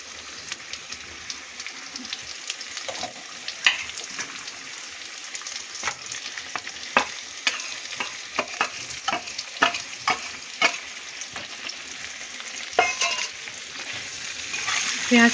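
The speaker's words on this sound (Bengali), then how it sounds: "এবার দিয়ে দিচ্ছি পেঁয়াজ কুচি।" Chopped onions frying in mustard oil in a pan of already fried potatoes for a Bengali tangra fish curry, a continuous close sizzle broken by frequent sharp clicks and scrapes of stirring, with no talk.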